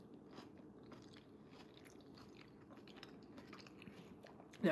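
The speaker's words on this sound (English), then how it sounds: "That crunch." Close, crunchy bites and chewing of pasta with pepper, a steady run of small crunches and mouth sounds, fairly quiet, ending in a louder bump.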